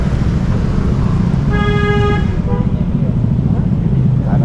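An angkot minibus sounds one sustained horn honk of about a second in the middle of loud, continuous street traffic rumble, with engine noise from nearby vehicles throughout.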